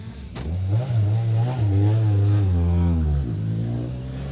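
A rally car engine revs hard inside the cabin on an asphalt stage of the Manx National Rally, its pitch climbing and falling steadily across the clip, loud and close with no talk over it.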